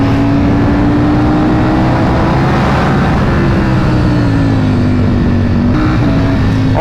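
A 2023 Ducati Panigale V4 sport motorcycle under way, its engine droning loud and close with wind rush, pitch rising steadily then dipping briefly as it shifts through gears with the quick shifter.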